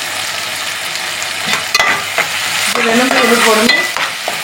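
Onions and spices for urundai kuzhambu sautéing in a hot pan, a steady close sizzle with scraping stirs, while a voice speaks briefly over it.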